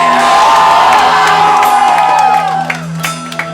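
A live crowd at a band show cheers, whoops and shouts loudly and continuously, the roar staying dense before tapering off near the end with scattered yells.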